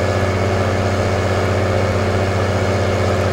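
A farm machine's engine runs at full throttle in the Farming Simulator 19 video game while spraying liquid fertilizer. It makes a loud, steady, unbroken drone with a deep low rumble throughout.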